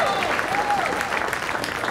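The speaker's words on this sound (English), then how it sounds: "let's give a round of applause for Les" Crowd applause at a comedy show in Fort Myers fills the space as a dense, steady wash of clapping, with faint speech-like tones briefly showing through early on.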